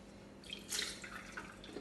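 Water poured over freshly steamed kozhukattai rice dumplings while handling them, heard as soft, faint dripping and trickling splashes close by with no talk.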